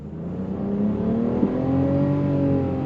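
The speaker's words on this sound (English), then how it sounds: "I'm gonna go on throttle from a roll here." A 2023 Nissan Rogue with a variable compression turbo accelerates on throttle from a roll, its engine hum rising steadily in pitch from inside the cabin.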